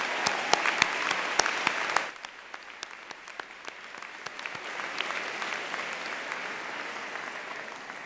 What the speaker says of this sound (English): Can we give a big round of applause to all of the staff who've made this happen today?